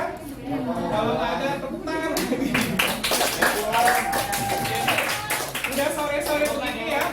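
A classroom of students claps together at the end of an afternoon lesson, with bursts of close hand claps over steady chatter and voices throughout.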